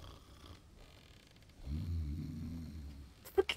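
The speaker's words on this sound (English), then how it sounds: "Fucking dad is snoring still." A dad character in a video game snores once, a low rumbling inhale swelling midway and fading, followed by a couple of sharp clicks.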